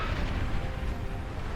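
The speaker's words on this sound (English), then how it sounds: "That was the sound of a juggernaut." Juggernaut unit firing in the real-time strategy game Beyond All Reason, a dense, rumbling artillery blast that roars continuously with heavy low-end boom and no speech.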